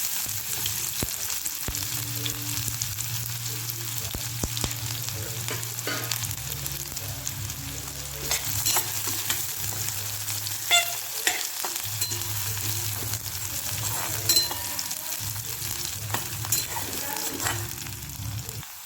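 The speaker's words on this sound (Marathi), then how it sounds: "मोहरी तडतडल्यावर आता मी कांदा घालत आहे" Onion goes into hot oil with crackling mustard seeds in a kadai, sizzling steadily and close up with sharp pops and occasional stirring clinks.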